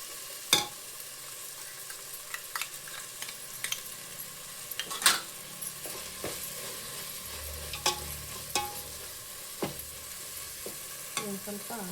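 Masala for chicken biryani being stirred and fried in a pan at home, with scattered spoon scrapes and clinks over a low, steady sizzle, close by and moderately quiet, no talking.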